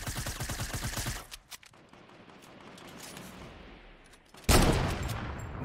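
Gunfire in a Fortnite match, aimed at a ball: a loud rapid burst of shots opens, then a quieter stretch of game ambience, then another sharp loud blast near the end.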